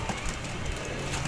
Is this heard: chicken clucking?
no